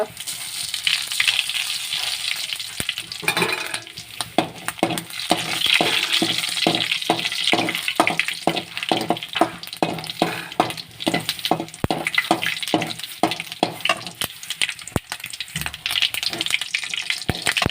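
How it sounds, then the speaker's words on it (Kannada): Hot oil sizzles and crackles loudly in a pan as garlic fries for tempering, with rapid rhythmic scraping strokes stirring through it, close and sustained. "ಅದಕ್ಕೊಂದು ಒಗ್ಗರಣೆ ಪಾಡೋನ್ಗ ಅದಕ್ಕೋಸ್ಕರ ಎಣ್ಣೆ ಪಾಡ್ದು ಬೆಳ್ಳುಳ್ಳಿ ಪಾಡಿಯ"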